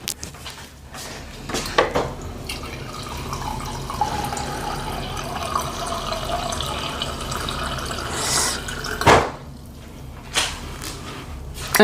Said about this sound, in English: I'm going to get the water from the refrigerator first.